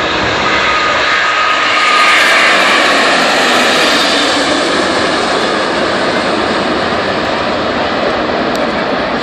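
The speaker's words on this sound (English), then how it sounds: "if that's not an impressive departure, watch the Airbus now going into the high air bank" An Airbus A380 jet departs at an air show, its engines a loud, steady, broad roar close by that swells slightly and holds throughout with no talk.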